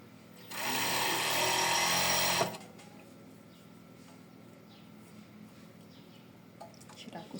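An overlock sewing machine stitches fabric in one loud, fast burst lasting about two seconds, then stops, leaving quiet handling sounds and light clicks.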